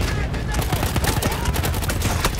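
Rapid bursts of gunfire in Battlefield 1 crowd the whole moment, a dense, loud barrage of overlapping shots from close by with no break.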